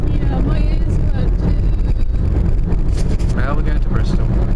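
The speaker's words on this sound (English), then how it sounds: "Very, very, very windy, and my ears hurt." Strong, cold wind buffets outdoors in a steady, loud roar with gusty rumbling close to the microphone, while people talk over it.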